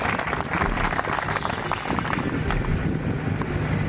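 An audience at a Rajput community meeting marking the birth anniversaries of Maharana Pratap and Prithviraj Chauhan claps loudly and continuously, with crowd noise and some wind rumble mixed in.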